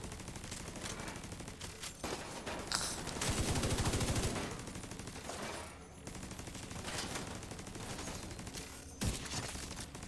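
Rapid turret gunfire rattles in The Division 2, dense automatic bursts layered with impacts and game effects, loud and close, with a heavier sustained volley in the middle and a few sharp single cracks.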